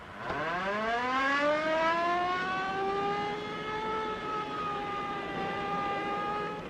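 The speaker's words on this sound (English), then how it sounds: "Step on that siren." A police car siren winds up from low to a high sustained wail, loud and close, holding steady over several seconds with no voices.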